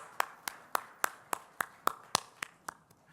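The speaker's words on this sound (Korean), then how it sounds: "우리의 고백과 기도와 찬양을 받으신 하나님께 다시 한번 힘차게 박수 올려드릴까요?" Clapping in a church during a worship service, about a dozen sharp, evenly spaced claps in a steady rhythm, fairly close and distinct against a quiet room.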